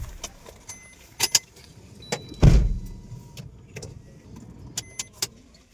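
A car is opened and boarded, with keys jingling, a power window whirring, a solid door thump, and scattered light clicks and knocks nearby.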